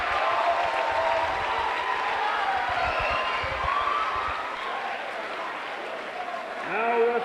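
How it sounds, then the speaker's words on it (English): Gym crowd at a high school wrestling dual meet cheers a Wakefield victory, a broad steady roar of cheering and clapping that slowly settles, with an announcer's voice over the noise. "As you can tell by the reaction of the crowd, it's another victory for Wakefield."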